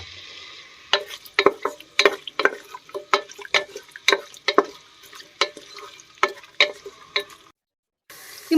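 Onions frying in oil for a Kashmiri lotus stem dish, with a steady soft sizzle broken by repeated sharp scraping clicks of stirring, close up, no talking.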